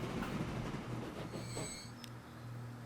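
A train in the Transport Fever 2 game rolls along the rails at speed with a steady low rumble, a faint high whine and a brief metallic ping near the end. No one speaks.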